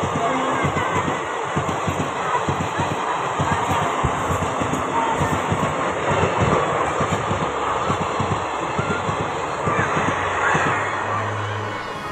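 A train rolls through an old railway station dating from British times, a continuous loud rumble with rapid rhythmic clatter of wheels over rail joints lasting the whole stretch, close and steady.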